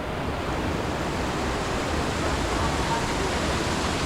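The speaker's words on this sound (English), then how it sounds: "There's one waterfall there." A small waterfall on a little stream in the woods, a steady broadband rush of falling water, close and constant throughout.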